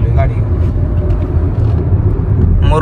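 A car rolls along a coastal road in Karnataka between the sea and the land, its steady low engine and road rumble loud and close from inside the cabin, with no breaks.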